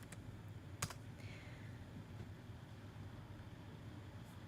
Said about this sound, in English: type their name in the white box and hit enter